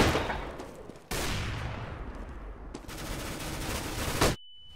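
Rapid bursts of gunfire in CS:GO, loud and close, with sharp onsets and decaying reverberant tails. The shooting ends abruptly and a steady electronic tone follows.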